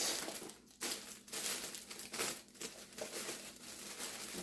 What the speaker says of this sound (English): I'm going to try and get the cellophane tight.